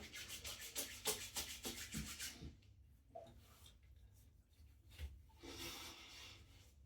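Visage aftershave rub being worked onto a freshly shaved face with the hands, a close, soft run of rhythmic rubbing strokes that fades to near quiet, then a brief patch of rubbing again at the end.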